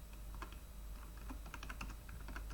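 A computer keyboard typed on while writing Python code, a run of light, close key clicks in an uneven quick rhythm over a low steady hum, no talking.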